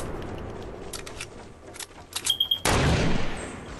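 Gunfire in the Fortnite video game: scattered sharp shots build into a quick burst of rapid fire, then a loud, sustained blast that lingers to the end.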